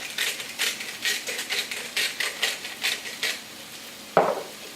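Vegetables seasoned with cracked black pepper and salt are stirred in a pan for fettuccine Alfredo, making a run of rhythmic scraping, rattling strokes at close range over a soft sizzle, ending in one sharper clack.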